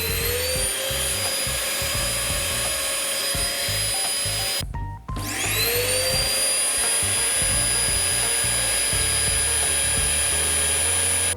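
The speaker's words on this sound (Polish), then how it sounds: "Jeszcze jeden odkurzacz, tym razem o takiej wyższej już mocy." A loud, high-power vacuum cleaner powered by a portable power station whines steadily, briefly cut off then restarting with a rising whir, continuing alone.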